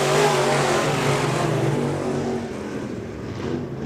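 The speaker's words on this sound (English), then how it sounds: "As they all charge into turn number 3." Race cars charge into a turn at Rock County Speedway in a loud roaring engine blare that slowly fades as they pull away, with a slight drop in pitch toward the end.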